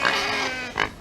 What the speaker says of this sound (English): Let me try to get away from the pig.